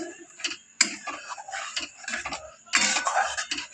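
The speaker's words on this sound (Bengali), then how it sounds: "একশো গ্রাম মতো চিনি দিয়ে একটু নাড়িয়ে নিচ্ছি" Sugar being stirred into milk in a pan, heard as irregular metallic scrapes and clinks of a utensil against the pan, close and moderately loud, with short pauses between strokes.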